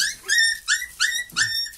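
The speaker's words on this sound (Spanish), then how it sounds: "¿Hay otro perro ahí o qué?" Newborn puppies give four short, high-pitched yips and whimpers in quick succession, close and fairly loud, with brief gaps between cries and no talking.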